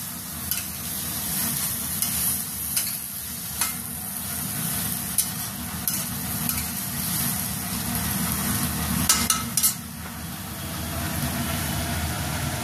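Food sizzles steadily in a frying pan on a lowered flame as a spatula stirs it in light, scraping passes, with soft clicks against the pan and no talking.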